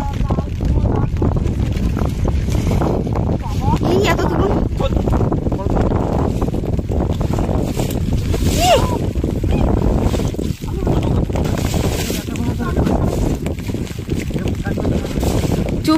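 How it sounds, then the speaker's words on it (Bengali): Strong storm wind roars steadily over the Garal river around a small fishing boat during heavy rain, a loud continuous buffeting rush with people talking over it. "প্রচন্ড তুফান হচ্ছে কিন্তু"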